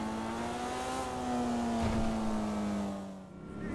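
Tundra Panthera car in GTA 5 Online, its engine held at a steady high rev with a smooth sustained tone that rises slightly mid-way and then eases off, loud and close, with no talk.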